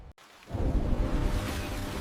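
A sudden downpour of rain strikes a Mercedes E-Class, a broad steady roar of water swelling in after a brief quiet moment and holding loud to the end.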